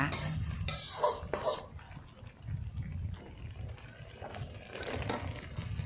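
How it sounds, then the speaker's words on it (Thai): A spoon stirs pumpkin into a chicken curry in a metal pot, scraping and clinking in irregular close bursts over a faint simmer. "เราก็จะใส่ฟักทองลงไปนะคะ"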